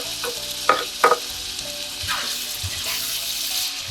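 Beef spring roll filling stir-fried in a pan as its liquid cooks off, with a steady close sizzle, a few sharp scraping knocks of the utensil near the start, and softer stirring after.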